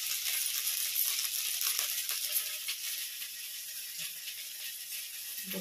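Sabudana vadas fry in hot oil with a steady, bright sizzle and small crackling pops, the hiss holding loud and continuous from start to finish.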